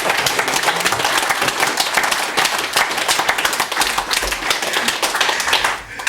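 Wedding guests applaud at a celebration, a dense, steady clapping that fills the whole stretch with no pause, close and fairly loud, easing off slightly at the very end.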